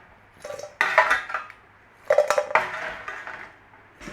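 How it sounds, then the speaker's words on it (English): Crispy roast potatoes are tossed with rosemary salt in a bowl in two bursts of clattering, scraping rattles, close up with no talking. "That's our crispy potatoes in there with a little bit of that rosemary salt."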